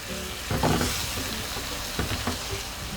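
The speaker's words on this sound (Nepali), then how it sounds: "अब तरकारीलाई खुल्लै राखेर फ्राई गरौँ" Parwal and potato curry with mashed tomato frying uncovered in a pan, a close, steady sizzle with occasional scraping stirs.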